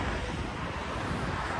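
Steady, rushing wind on a beach at Balneário Camboriú roars continuously across the microphone, broad and buffeting, with the wash of surf likely blended underneath.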